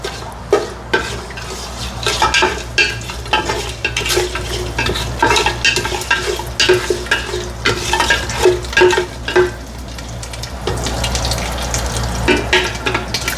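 Whole biryani spices and cinnamon frying in a pot with loud, busy stirring, a near rattling and scraping of a spoon against metal over a constant sizzle, no voices.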